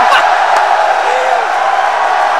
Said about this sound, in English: That is money match cheering you can probably hear in the background.